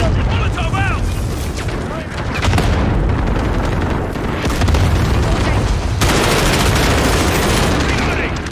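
A video game firefight rages loud and close, with a thrown Molotov landing amid dense gunfire, booms and explosions rolling continuously, and shouted callouts heard over the battle.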